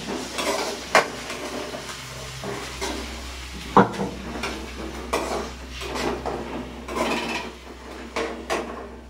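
Onions browning in a pan in a village home kitchen, heard as a soft steady sizzle with scattered clinks and scrapes of a utensil stirring against the pan, close by and without talk.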